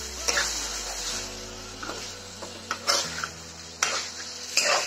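Chicken curry with homemade yogurt stirred in a pan, a spoon scraping and clinking against the metal in several distinct strokes over a faint sizzle, close up with no speech.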